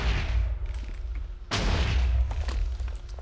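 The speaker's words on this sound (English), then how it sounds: "just modifying the cannon a little bit to try and blow up on a hole in this cave" A TNT cannon in Minecraft blasts into a cave wall: a deep booming explosion opens the clip, a second sharp blast lands at mid-point with rumbling debris, and smaller pops follow, loud and close.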